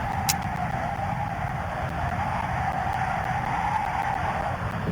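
A truck engine drives steadily inside a tornado video game, a continuous mid-level motor drone with a brief sharp click near the start and no talk.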